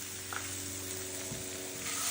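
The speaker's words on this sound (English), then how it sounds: "Our Brussels sprouts, which are still sizzling, at our bowl." Charred Brussels sprouts sizzle steadily in a bowl, a continuous close frying hiss with faint clinks, no talking.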